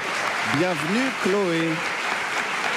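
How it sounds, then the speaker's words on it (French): A studio audience keeps up a steady round of applause for a guest on a French talk show while a voice speaks a short welcome over the clapping. "qu'on peut applaudir bien fort"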